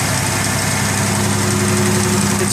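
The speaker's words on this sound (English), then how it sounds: "Hear a little bit of lifter action, nothing too discerning." A 1987 Buick Grand National turbo engine idles on a cold day, a steady loud mechanical drone with a faint lifter tick running through it, close and continuous with no speech.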